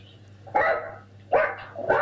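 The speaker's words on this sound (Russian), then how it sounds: "А то у него собака какая-то лает там." A dog barks three times in short, sharp bursts at close to moderate distance, with a low steady hum underneath and no talking.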